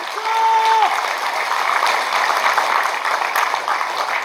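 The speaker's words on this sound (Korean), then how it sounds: "여러분 동의하시면 힘차은 오리 박수 부탁드립니다." Applause from an audience at a political party inauguration ceremony, a steady wash of many hands clapping at moderate distance, with a brief whistle-like tone near the start and no talk over it.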